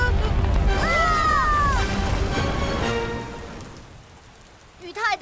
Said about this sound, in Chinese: 雨太大了，很难继续搜索。